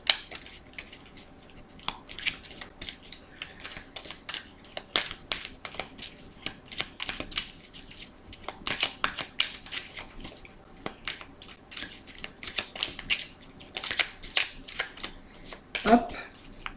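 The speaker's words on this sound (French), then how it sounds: "je vais battre les cartes pour un peu faire passer les énergies" Tarot deck shuffled by hand at a reading table, soft rapid riffling and card slaps repeating in quick irregular bursts, fairly faint and close.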